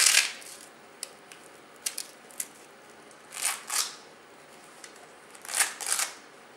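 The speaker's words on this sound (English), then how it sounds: "They will then undo 3 Velcro straps" Three Velcro straps are pulled loose on a Wristrac wrist traction device, each a short, close tearing rasp, with a few small clicks of handling in the quiet between them.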